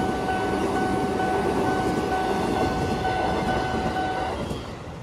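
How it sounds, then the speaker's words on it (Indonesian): JR205 commuter train passing a level crossing at Pasar Minggu on the Bogor to Jakarta Kota line, a loud continuous rumble and rush with steady horn-like tones, fading slightly at the end. "Seri komuter lain JR205 ya, menuju Jakarta Kota dari Bogor."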